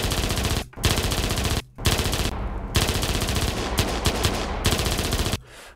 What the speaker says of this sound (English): the single shots get through very nicely, but then when the full auto starts,